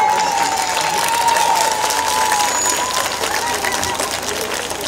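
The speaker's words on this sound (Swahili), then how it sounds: "Kwa hivyo tuwapigie makofi." Crowd at an outdoor public event in town applauds, a steady, loud wall of clapping and murmur with a faint whistle-like tone drifting over it throughout.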